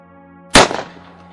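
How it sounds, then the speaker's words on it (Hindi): One sharp, loud gunshot bursts over a low droning background in a horror story narration, its echoing tail dying away over the next half second. "मुझे गोली चलने की आवाज़ सुनाई दी"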